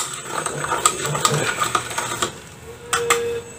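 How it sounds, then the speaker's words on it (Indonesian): Fertilizer mixture being stirred in a container, a run of irregular scraping clinks and taps close by, with a brief pause before a couple more knocks near the end; cheap NPK 16-16-16 fertilizer mixed at home. "kita aduk lagi dan kita akan saring"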